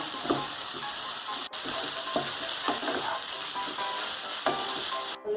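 Ash gourd and mung dal stirred and fried in a pan, a continuous sizzle with a few soft scraping stirs spaced through it, close and steady.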